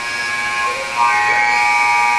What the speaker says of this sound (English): We got 4 seconds here. 3, 2, and at the buzzer, Chichu.